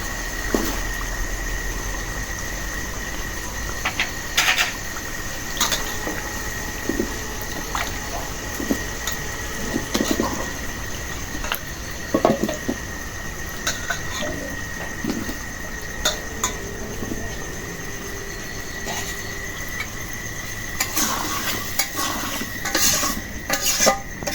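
Potatoes stirred with spices in a pan during a simple village pre-dawn meal with thin singi fish curry, giving repeated clinks and scrapes of a utensil against the pan over a steady background hum, with no talking.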